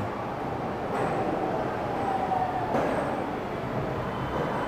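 Macau airport LRT light rail train passing, a steady low rumble and rolling hiss held throughout, with a faint high whine and brief squeals as it runs.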